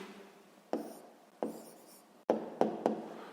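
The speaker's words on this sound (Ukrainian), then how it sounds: "записуємо тоді відповідь" A pen scratches across paper while writing the answer to a sixth-grade math exercise, in five short, distinct strokes with quiet pauses between them, close and clear with no talk.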